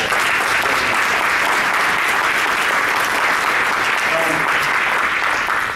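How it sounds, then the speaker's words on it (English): Sustained applause from an audience at a presentation in Fairbanks, dense and steady throughout, loud and close, fading slightly at the very end with no talk over it. "we should give them a round of applause for what they're doing for Fairbanks"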